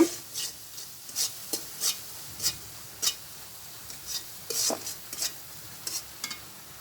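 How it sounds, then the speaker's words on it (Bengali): Spice masala with tomato frying in a pan is stirred with repeated scraping strokes over a faint sizzle, the strokes coming in an uneven rhythm of about a dozen close, crisp scrapes. "টমেটো দিয়ে আমি মশলাটা কষাবো"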